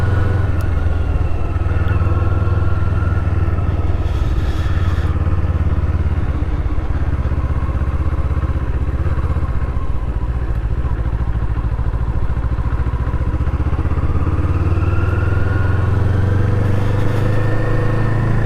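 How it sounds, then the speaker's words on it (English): A Kawasaki Eliminator semi-cruiser motorcycle is ridden through a neighbourhood, its engine a loud steady drone with wind rush that rises and falls gently with throttle, heard close from the rider's position throughout. "It's a pretty nimble little bike, though, for a semi-cruiser."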